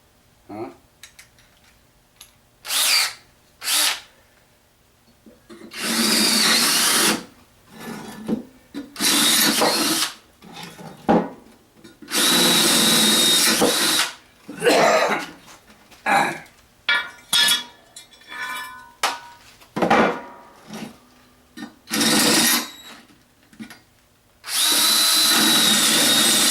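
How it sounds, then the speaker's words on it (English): A power drill drills out small holes in metal near a stove, giving repeated loud whining bursts of varying length with short gaps between them, up close, with some clattering in the pauses. "let's see if I can drill these out"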